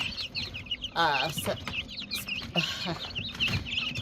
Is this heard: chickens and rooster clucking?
yes